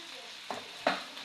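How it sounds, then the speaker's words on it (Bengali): Ground chili, turmeric and coriander fry with salt in a pan, a quiet steady sizzle broken by two brief stirring scrapes, near and without speech. "একটু ভাজা ভাজা করে নেব।"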